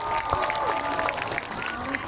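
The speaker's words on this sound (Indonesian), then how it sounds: "Tepuk tangan buat semuanya" A large crowd at a political rally in Yogyakarta claps and cheers in a steady, busy wash of applause, with voices calling out through it.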